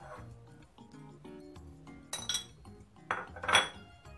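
Pasta salad ingredients with tuna and egg dropped and scraped into a bowl, with a run of clinks, taps and clatters building to louder knocks near the end, no voices.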